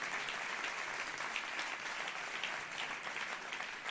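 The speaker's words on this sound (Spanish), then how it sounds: "vamos a darle un aplauso porque es un ejemplo de" An audience at a socialist party event gives a steady, sustained round of applause that fills the whole stretch at an even level, with no talk on top.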